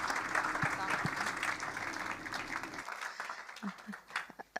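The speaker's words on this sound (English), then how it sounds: "Let's applause, guys." A crowd applauds in a steady wash of clapping that fades out after a few seconds, with a voice speaking over it, at an international pharmaceutical sector conference.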